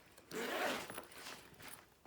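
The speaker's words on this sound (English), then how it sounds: "And then we can open up our zipper." A zipper is pulled open on a small handmade sewn mini backpack, a close, continuous rasping zip lasting about a second and a half in a quiet room.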